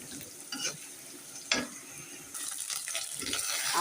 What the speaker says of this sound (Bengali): এবার এটাতে মশলা দিয়ে দিই